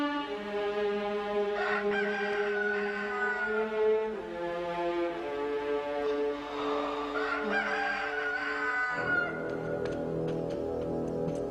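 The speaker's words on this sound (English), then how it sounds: "Before the rooster crows," A rooster crows in the distance, several drawn-out calls heard over a sustained tonal backdrop, with a fainter clucking or meow-like sound near the end.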